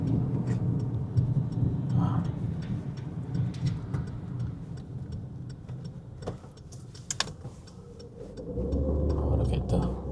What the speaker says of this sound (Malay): Ada kereta.